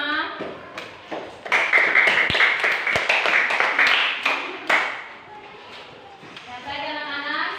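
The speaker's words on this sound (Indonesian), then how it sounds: "tepuk tangan untuk kelompok 5" Classroom children clapping for a group after its presentation, a burst of quick taps and claps with a teacher's voice and kids' speech mixed in, then fading to talk.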